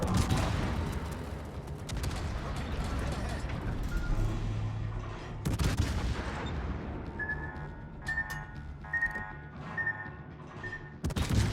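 Naval gun salvos from a warship firing at a destroyer in World of Warships, heavy booming blasts over a constant engine and sea rumble, with sharp cannon reports and intermittent alarm-like tones later on.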